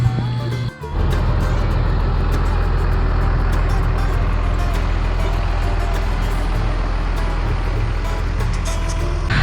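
A Ford F700 scrap truck idles steadily after being dug out and warmed up, a loud, continuous low engine drone with a brief dip near the start, running alone without talk.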